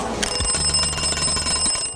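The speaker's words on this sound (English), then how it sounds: "you should never forget to keep your alarm" An alarm clock rings loudly and continuously for about two seconds, a steady bright metallic ringing with no voices over it.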